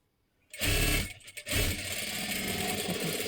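A sewing machine runs while stitching a readymade dress sleeve, starting after a brief silence with a loud, close whir, a short pause, then steady continuous stitching to the end.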